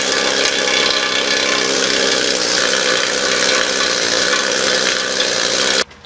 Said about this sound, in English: we're going to take the second cut file, come across it